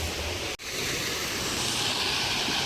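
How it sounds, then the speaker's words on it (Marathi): Water pouring steadily from a waterfall into a large pool, a dense continuous rush with a brief dropout early on and no voices. "ते पहा मित्रांनो ते पाणी तिथं सांडत आहे"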